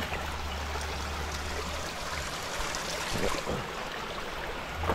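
A small stream flows with a steady, close, broadband rush and trickle, continuous throughout with a faint low hum at the start and no voices.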